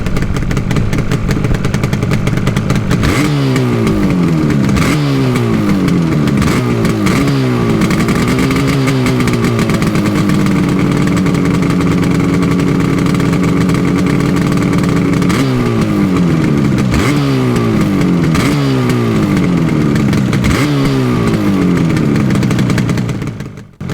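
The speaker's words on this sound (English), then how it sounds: "I'll leave this microphone just here and I'll rev this bike for you." A Yamaha RD350 LC, an 80s classic two-stroke motorcycle, revs loudly up close from a steady idle, with repeated sharp throttle blips and one longer held rev, the engine buzzing throughout with no voices.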